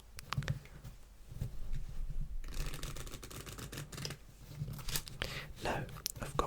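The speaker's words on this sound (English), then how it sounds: "So let's take the deck and start by giving it a little bit of a shuffle." Rapid papery riffling and flicking of playing cards being shuffled close up, in a couple of quick bursts with soft handling noises between.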